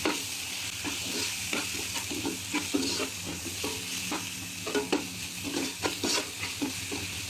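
Garlic, ginger and tomato paste with paprika, spices and salt sizzle steadily in a pan, with frequent stirring scrapes breaking through the constant frying hiss; no talking.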